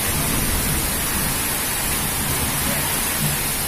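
Heavy rain and strong wind in Jogja make a dense, steady wash of noise, loud and unbroken, with no voices over it.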